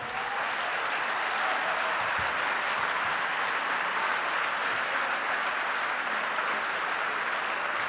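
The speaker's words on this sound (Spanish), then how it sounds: "Le damos la bienvenida a Noam Chomsky con un fuerte aplauso." Loud, sustained applause from a large forum audience welcoming Noam Chomsky, dense and even throughout with no pauses.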